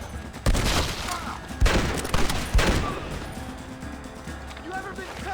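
Red Dead Redemption gunfire volley: three loud, sharp shot clusters crack in quick succession, then fade into scattered softer fire, with shouted voices mixed in.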